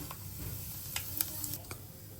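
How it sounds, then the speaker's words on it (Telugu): Mustard seeds and cumin sizzle softly in hot oil in a heated kadai, a faint steady hiss broken by a few sharp pops and crackles, close and quiet. "ఇప్పుడైతే ఆయిల్ వేసేసుకుంటున్నాను ఇప్పుడైతే ఆవాలు జీలకర్ర వేస్తున్నా"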